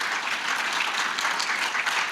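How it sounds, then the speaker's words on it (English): A conference audience at the MEA-PIC Asia Economic Dialogue 2024 breaks into dense, steady applause, a full wash of many hands clapping together, close and loud throughout with no speech. "So please give him a round of applause."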